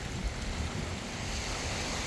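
Continuous broadband rushing of ocean surf washing onto a Zanzibar beach at high tide, steady and fairly loud, with a faint low rumble underneath and no voices.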